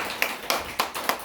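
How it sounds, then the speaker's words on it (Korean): A church congregation clapping in unison, four crisp, evenly spaced claps in a steady rhythm at moderate loudness, with no talk over them. "하나님께 영광의 박수를 올립니다."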